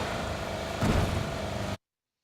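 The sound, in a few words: car pulling up in a video game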